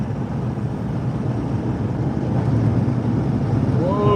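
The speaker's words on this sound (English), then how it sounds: "you can hear that low frequency roar as that low level jet is impacting the outer structure of the Dominator 3" A steady low roar of storm wind buffets the outer structure of the Dominator 3 storm-chasing vehicle near a hurricane, a dense rumble that holds and swells slightly toward the end.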